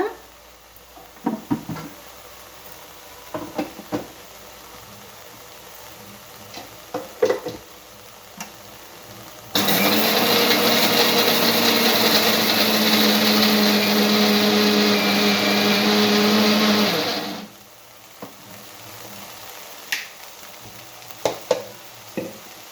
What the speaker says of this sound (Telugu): ఇక అన్నీ మిక్సీ వేసేస్తాను